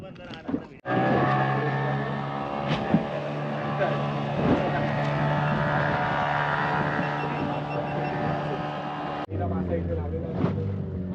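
A motorboat at a deep sea fishing tournament drones with a steady, loud engine hum for most of the stretch, then shifts pitch near the end, while someone talks over it.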